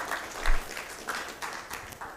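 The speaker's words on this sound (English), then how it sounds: "Let's give a round of applause for that." Audience applause at an AYuTe Africa Challenge event in Uganda, a short burst of scattered clapping from a crowd that swells and fades over a couple of seconds.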